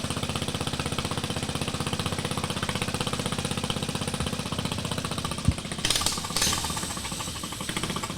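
Small engine of a revived Colt two-speed mini bike idling, a steady rapid chugging putter up close with a brief clunk and rattle partway through.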